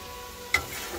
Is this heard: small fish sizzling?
yes